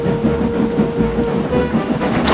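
Thomas the tank engine rolls along an island railway line, a steady rumble with a rhythmic clickety-clack of wheels on the rails, close and continuous, with a faint hiss.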